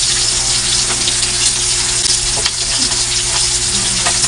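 Milkfish (bangus) frying in hot oil, a loud, steady crackling sizzle with bursts of spitting that runs for the whole stretch and has no talk over it.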